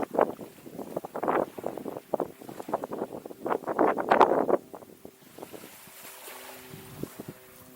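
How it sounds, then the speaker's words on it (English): Strong, gusty wind buffeting the microphone on the Thames Estuary coast, loud irregular rumbling bursts that ease off toward the end, with no talk. "As you can probably hear, it is quite windy"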